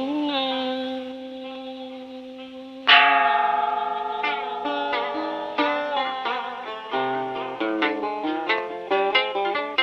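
A temple bell rings in a Vietnamese cải lương opera, its sustained tolling tones layered under a singer's voice and melodic accompaniment that strikes in repeated notes.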